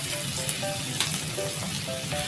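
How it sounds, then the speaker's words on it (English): Garlic fries in a pan for buttered shrimp, a steady close sizzle with faint clinks and scrapes running throughout. "So, habang kukok yung ating garlic"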